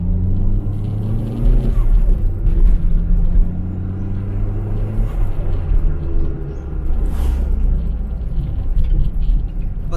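Turbo Toyota Starlet engine pulling in third gear after a downshift, a steady close rumbling drone with rising and falling tones, heard from inside the car.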